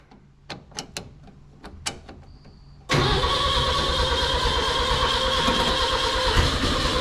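A 1965 Datsun 320 engine, worked on for its clutch, brakes and carburetor, gives a few sharp clicks and cranks before catching and settling into a steady, loud, fast high idle.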